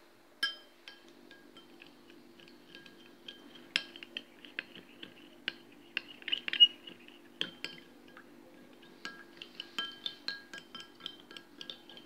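Spoons clink and tap against a bowl while egg is whisked with two spoons of milk, a fast irregular patter of small metallic strikes, close and fairly quiet, with a faint steady hum beneath.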